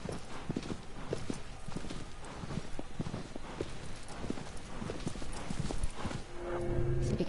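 A horse in a video game set in the Forbidden Lands walks along with steady, rhythmic clip-clop hoofbeats at moderate distance, softly recorded, with a faint voice or tone briefly creeping in near the end.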